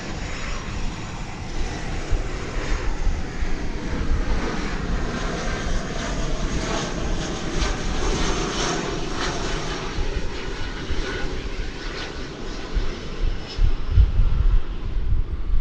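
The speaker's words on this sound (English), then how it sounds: "it's an Airbus A319 American Airlines Flight" An American Airlines Airbus A319 arriving at DFW Airport roars past with a broad, sustained jet-engine rumble and some wind buffeting, loud and steady throughout.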